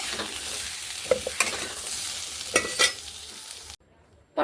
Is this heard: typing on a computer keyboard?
no